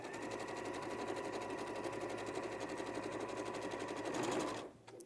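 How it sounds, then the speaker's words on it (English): A sewing machine top stitching a seam to a garment lining runs in one steady, close mechanical whir for several seconds, then stops abruptly near the end. "I'm just going to top stitch the seam to the lining."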